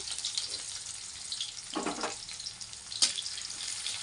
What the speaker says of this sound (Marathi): त्याला कांदा चांगलं थोडा लालसर होऊन द्यायचा तेलामध्ये.